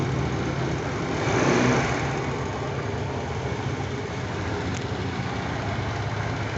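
An Aprilia SXR 160 scooter engine runs steadily nearby, a continuous rumbling drone with a slight swell early on, heard alone without talk.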